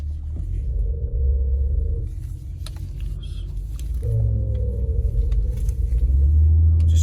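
Low groaning rumble from a Honda CR-V, HR-V or Pilot with a VTM or dual pump system during tight turns, droning under the engine and road hum and swelling in waves as the car turns, no voices.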